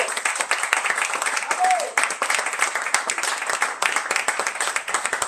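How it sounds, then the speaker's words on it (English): An audience at a poetry reading claps in a steady burst of applause, moderately loud and sustained, with a few voices audible beneath the clapping. "Round of applause for Jose Oseguera."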